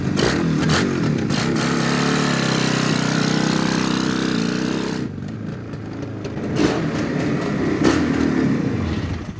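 A 1971 Suzuki T500R Titan twin-cylinder two-stroke motorcycle engine runs steadily close by with a raspy, buzzing rattle, briefly easing off and then picking up again.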